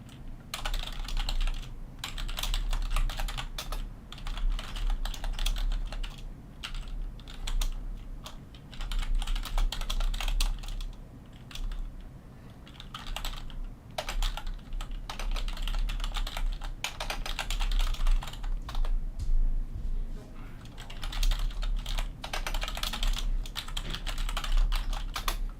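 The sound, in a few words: typing on a computer keyboard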